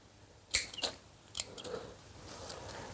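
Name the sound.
cutting leaves off a kaffir lime tree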